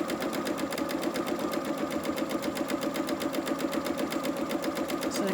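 A sewing machine runs fast and evenly, stitching an ironed fabric strap for an advent calendar, its needle thumping in a rapid, regular mechanical rhythm close by without pause.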